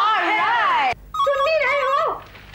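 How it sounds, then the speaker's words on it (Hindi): A melodic electronic ringtone plays in wavering tones, breaks off briefly, then resumes; a voice may overlap it. "फोन उठाओ ना।"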